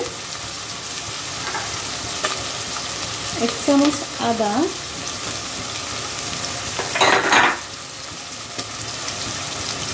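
Chicken sizzles steadily in a hot frying pan for Bengali-style chicken vegetable, with a few stirring scrapes and a louder burst of sizzle near the end, under occasional brief speech.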